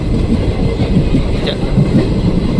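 Passenger train picking up speed along the tracks, a loud, dense rumble with rapid rhythmic clatter heard close up for a couple of seconds.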